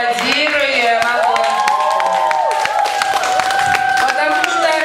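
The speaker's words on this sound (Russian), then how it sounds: "Пока девчонки спускаются со сцены, аплодируем." A camp awards ceremony audience applauding as winning girls leave the stage, steady clapping and crowd noise under loud music with a voice speaking over it.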